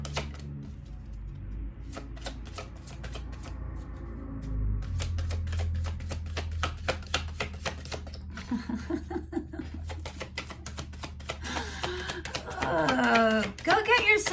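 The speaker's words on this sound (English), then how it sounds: "It's more intense than it looks, the shuffling." Tarot cards being shuffled by hand in rapid crisp riffles and snaps, a long rhythmic run up close, with a voice talking toward the end.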